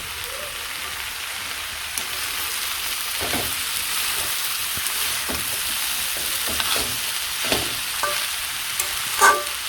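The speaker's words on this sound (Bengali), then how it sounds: "পেঁয়াজ কুচি কুচি করে কেটে দিয়ে দিন সাথে ভাজি ভাজি হয়ে যাবে" Chopped onions fry in a pan with a steady, soft, rain-like hiss, broken now and then by scrapes of a stirring utensil.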